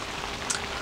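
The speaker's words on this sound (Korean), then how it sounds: "오늘 하루 종일 비가 와요." Winter rain patters on a one-touch Idujen Vantagon tent at Moak mountain camping park in Gimje, a brief soft steady hiss of drops heard close up.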